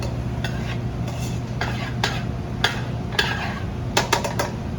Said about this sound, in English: add a little bit of salt and pepper, give it another stir